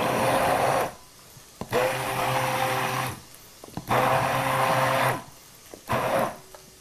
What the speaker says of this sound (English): I kind of like the immersion blender